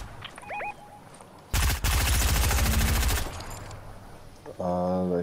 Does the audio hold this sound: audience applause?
no